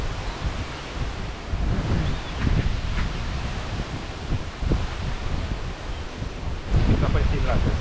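Strong, gusty wind roars across the microphone at a fishing lake as the weather turns to rain, in a steady broadband rush, swelling in heavier buffets now and then.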